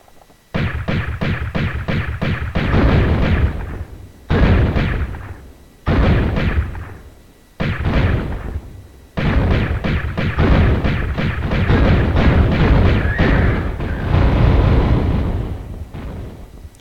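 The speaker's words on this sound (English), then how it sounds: "get a few good shots on him before he decides to shoot at us" Loud bursts of gunfire from a Tomb Raider firefight in the Sanctuary of the Scion: several dense volleys of rapid shots, broken by short gaps, with booming impacts layered through.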